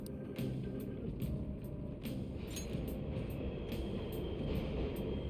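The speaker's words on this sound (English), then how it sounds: "The trains are totally running." Subway train running through a station in the video game Persona 5 Royal, a steady loud rumbling roar with a few faint clicks on top, continuous throughout.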